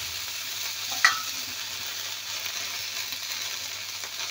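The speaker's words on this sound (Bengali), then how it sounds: "আবার একটু বেশ ভালো করে নেড়ে চেড়ে ভেজে নেব" Okra sizzles steadily as it fries with spices in a pan in a village-style kitchen, with a soft stir and a single small clink near the start and an even hiss throughout.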